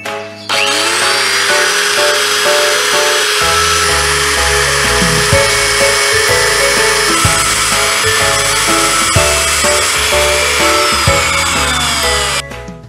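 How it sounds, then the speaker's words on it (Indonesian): A handheld angle grinder grinds down a motorcycle ignition pulser to shift the ignition timing, a loud, steady high-pitched whine that runs nearly nonstop for about twelve seconds, wavering slightly as the disc bites the metal. "Kalau masih belum, kalian gerinda lagi nih sampai dia pas."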